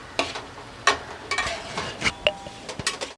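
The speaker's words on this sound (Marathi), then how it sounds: "हे सगळं वितळेपर्यंत आपण असं हलवत राहणार आहे." Jaggery being stirred in a pan as it melts while cooking filling for puran poli: scraping, clinking spoon-on-pan strokes in irregular bursts over a faint sizzle, close and fairly quiet, no talking.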